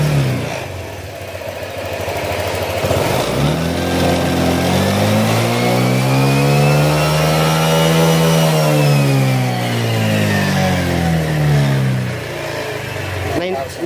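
A Honda Click 125 scooter fitted with a 150cc engine and not yet ECU-remapped revs up close by, its engine note rising to a high sustained whine near 9,700 RPM and falling back to idle, with someone talking over it.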